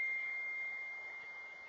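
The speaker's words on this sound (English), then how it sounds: "My phone won't quit going off" A single sustained electronic tone from a mobile phone notification, faint and steady, fading slightly over under two seconds.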